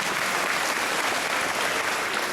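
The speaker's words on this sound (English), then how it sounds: "give them a round of applause for saving so many animals" An audience at a SeaWorld San Antonio show claps, a dense, even wash of applause that holds steady throughout.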